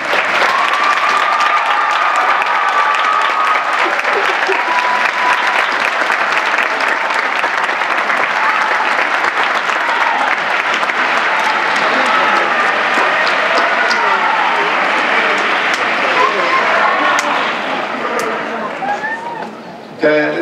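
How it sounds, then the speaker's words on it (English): Loud, sustained applause from a college graduation ceremony audience for the rising staff and instructors, with dense clapping over about twenty seconds and a murmur of voices mixed in before it tapers off at the end. "let's give them a round of applause."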